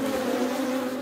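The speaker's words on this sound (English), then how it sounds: "the bees right now in the microphone" Honey bees swarm around an opened horizontal split hive during an inspection, making a loud, steady, close buzzing right against the microphone with no talking.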